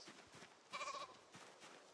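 A sheep bleats once in Project Zomboid, a short tonal bleat in the middle standing out over a quiet, murmuring background.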